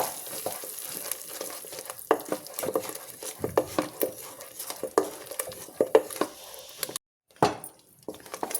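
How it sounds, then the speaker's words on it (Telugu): Chicken masala spices with chilli and salt fry in a pan for a chicken curry, with a soft sizzle under frequent sharp clinks and scrapes of a spoon against the pan, and a short silent gap near the end. "ఇదంతా వేసుకునేసి ఒకసారి బాగా ఫ్రై చేసుకున్నామండి"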